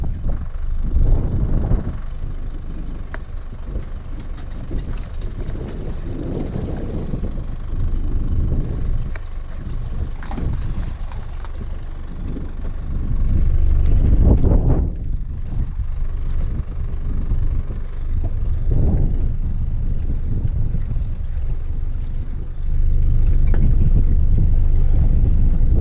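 Gusty wind buffets the microphone on a cold lake from a small fishing kayak, a continuous low roar with stronger blasts partway through and no talking.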